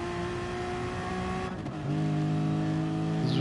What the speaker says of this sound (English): go on board with Vialli with that beautiful sounding Ferrari